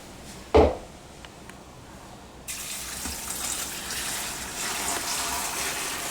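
Water is poured into a container for making rhubarb wine, a short splash followed by a steady, moderately loud rushing flow that continues to the end.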